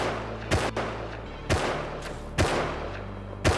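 Sharp gunshots ring out in the survival video game Rust, four distinct cracks spaced roughly a second apart over a low droning background.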